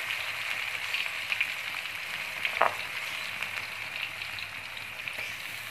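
Chili frying in oil previously used to fry fish, a steady bright sizzle that continues throughout with a few soft stirring clicks and pops, close and moderately loud, no voices.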